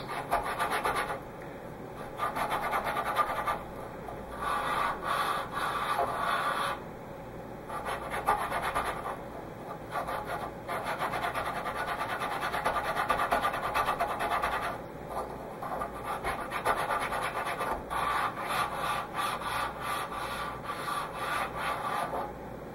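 A metal flange on a vintage kart axle is worked around against its bearing, giving a steady, close rubbing and rasping scrape that runs continuously with brief pauses.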